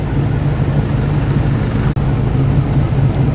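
A Toyota Hilux ute arriving at a car meet at Bungarribee Park in Sydney, its engine a loud continuous low rumble up close, mixed with steady roadway noise and cut briefly by a sharp dropout near the middle.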